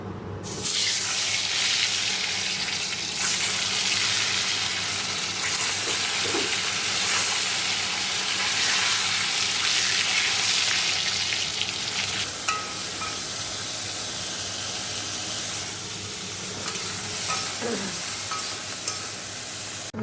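New potatoes coated in salt and turmeric fry in oil in a kadai, giving a loud, continuous close sizzle with occasional stirring scrapes over about twenty seconds.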